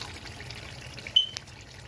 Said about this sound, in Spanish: Y ahora le voy a agregar el agua.